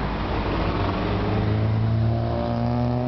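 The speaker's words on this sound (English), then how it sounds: "All kinds of trucks on the road." Steady street traffic of trucks and cars rolling past, with engine hum and tire noise that stays loud and continuous and a deeper engine tone building toward the end.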